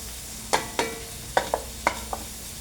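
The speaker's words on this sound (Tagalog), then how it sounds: "Ayan, gisa-gisa lang. Gisa-gisa lang natin. Ang init." Food sautéing in a hot pan, six quick scraping strokes of a spatula over a low background sizzle, close and fairly loud, no talk.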